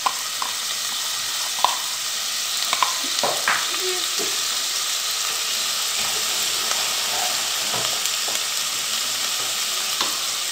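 Crushed garlic, with bell pepper, sizzles steadily in a hot pan while being sautéed for Brazilian bobó de camarão, a continuous close frying hiss broken by a few small pops and stirring clinks.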